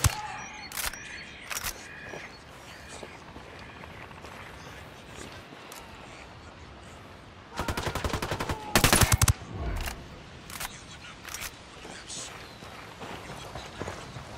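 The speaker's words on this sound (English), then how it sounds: "I'm opening fire on these shitheads" Rapid bursts of automatic gunfire in Ghost Recon Wildlands, with scattered single shots early on and a dense, loud volley in the middle, mixed with game ambience and voices talking.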